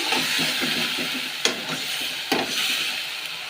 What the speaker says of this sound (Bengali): আমি মশলাটা দিয়ে দিচ্ছি, ভালোভাবে কষিয়ে নেবো আমি একটু